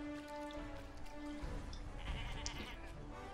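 A sheep bleats in the video game Summer in Mara, with a drawn-out cry over a soft game soundtrack and ambient music.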